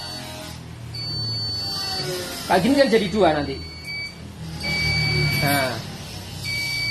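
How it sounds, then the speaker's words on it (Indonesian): PSU and MBR protection module buzzers give high, steady electronic tones that sound twice with a gap between, alongside someone talking in the middle. "Jadi akhirnya ada 2 buzzer. Buzzernya PSU dan buzzernya MBR."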